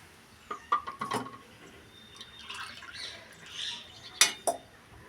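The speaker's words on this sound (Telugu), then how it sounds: "ఫస్ట్ గిన్నె పెట్టానండి ఇదిగోండి రెండు కప్పులు వాటర్ పోస్తున్నానండి" Two cups of water poured into a cooking pot while preparing festival offerings, heard as soft, diffuse splashing in the middle of the clip with a few sharp clinks and knocks before and after.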